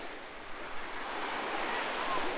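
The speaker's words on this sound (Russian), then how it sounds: "Пляж Самы Бич." Steady broadband wash of surf on Samae Beach, Koh Larn, Pattaya, a continuous hiss of waves rolling in with some wind over the microphone, no distinct breaks, moderate and fairly even throughout.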